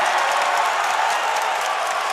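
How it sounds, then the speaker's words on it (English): A crowd in a basketball arena at a TPBL play-off game applauds in a dense, steady wash of clapping and crowd noise that stays even throughout. "Lioneers crowd is allowed today."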